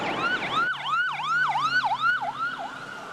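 Wailing emergency siren sweeping up and down in a steady repeating cycle, loud and close, with a low engine hum beneath, in New York City near the World Trade Center on September 11, 2001.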